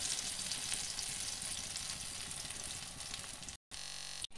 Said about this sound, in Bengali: দিক লাল হয়ে গেলে আস্তে করে ধরে ঘুরিয়ে দিতে হবে, অপর পিঠটাও লাল করে ভেজে নিতে হবে